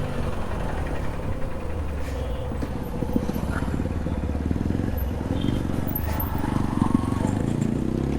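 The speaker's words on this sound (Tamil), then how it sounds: "ப்ரோட எக்ஸாஸ்ட் பயங்கரமா இருக்குதுங்க" A motorcycle exhaust rumbles steadily nearby on a ride near Vayalur Murugan temple, a deep continuous engine drone with slight variations in pitch, and a voice speaks over it.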